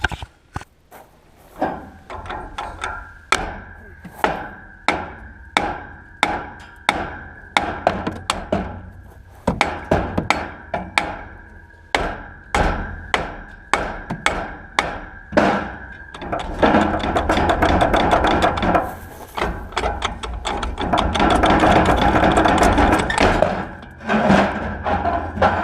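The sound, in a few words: hammering the rear hub of a 1963 Chrysler Newport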